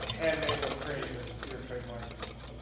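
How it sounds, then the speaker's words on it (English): Cream and powdered sugar are whisked by hand in a bowl, a rapid, steady metallic scraping rhythm heard under a person talking. "When you are whipping cream with sugar, powdered sugar works better because it melts faster. And as always, I'm whisking by hand."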